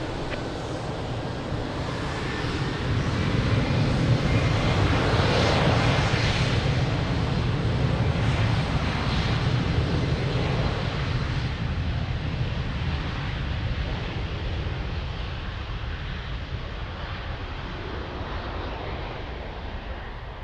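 A fixed-wing airliner takes off at Lisbon Airport, its engine roar rising into a broad, steady rumble that swells after the first few seconds and holds loud and sustained, slowly fading near the end with no talk over it.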